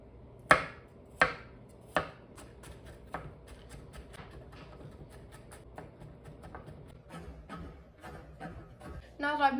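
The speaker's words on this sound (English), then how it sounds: "I'm going to mince 1 clove of garlic" A knife chops on a board, mincing a clove of garlic: a few sharp, distinct taps at first, then quicker, softer rhythmic chopping, fairly quiet and close.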